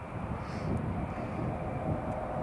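A SunExpress airliner landing on runway 07 at Newcastle Airport, a dense continuous engine roar and rumble heard from a distance and holding steady, with no talk.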